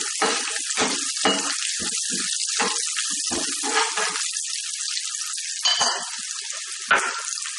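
Chopped ginger and garlic sizzle in hot oil for a prawn dish, a bright continuous frying hiss close up, with crackling bursts and occasional stirring, no voices.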